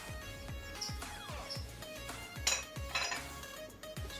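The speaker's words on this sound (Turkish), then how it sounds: "Tavamızı güzelce harmanlayalım." Chicken with chili flakes, salt and oil stirred in a frying pan, with a spoon scraping and clinking against the metal in a quick, repeated rhythm, faint and close with a few brighter knocks near the end.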